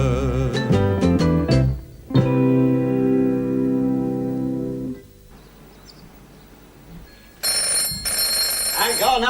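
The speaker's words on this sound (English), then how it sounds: "It's the bloody phone." A telephone rings in a sitcom scene, its bright, reverberant bell entering near the end after a stretch of musical tones and a quieter lull.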